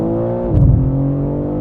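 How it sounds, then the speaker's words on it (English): A 2024 BMW M3 CS engine in its CSL-spec tuning accelerates hard close by, a loud steady drone that climbs in pitch with a brief surge of extra intake roar partway through, with no voices. "This engine is amazing in this tuning configuration"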